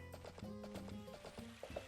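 Horse hooves clip-clop at a steady rhythm in the farming video game Story of Seasons: A Wonderful Life, with short plucked musical tones running underneath, moderately loud and continuous with no talking.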